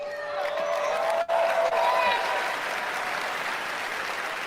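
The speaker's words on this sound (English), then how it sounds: "there aren't that many people clapping in the audience" Audience applause fills the hall at the Bethesda E3 2019 press conference, a steady, sustained wash of clapping with a brief dip partway through, loud and continuous, with music or stage sound underneath early on.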